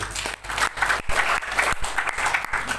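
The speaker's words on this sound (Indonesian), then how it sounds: "Beri tepuk tangan itu Tuhan" Applause from a church congregation after a sermon, loud and continuous with sharp breaks, no speech over it.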